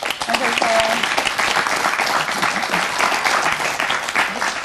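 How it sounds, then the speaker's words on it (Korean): A TV studio audience greets a guest with loud, close applause, a dense continuous clatter of many hands, with faint voices and a brief tone mixed in. "박수로 맞아주시죠"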